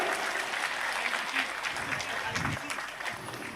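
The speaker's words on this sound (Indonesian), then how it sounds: "Tepuk tangan untuk Sayyid Zulfikar" An audience at a religious lecture applauds Sayyid Zulfikar with a dense, sustained clatter of clapping, full and close at first, then thinning slightly toward the end, with voices mixed in.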